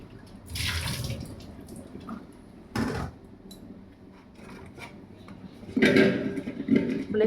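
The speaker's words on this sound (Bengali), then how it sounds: "আমি সমস্ত সবজি আস্তে আস্তে ধুয়ে নিচ্ছি।" Vegetables being washed in water, with splashing and running-water bursts coming in several distinct surges between quieter stretches, close and moderately loud.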